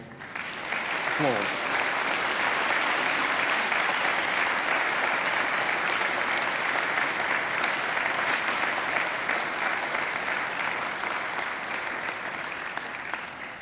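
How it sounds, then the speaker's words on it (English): Graduates at a Macquarie University graduation ceremony applaud their family and friends, a large hall full of steady, dense clapping that holds loud and unbroken for the whole stretch, with faint crowd murmur beneath. "give them a mighty round of applause"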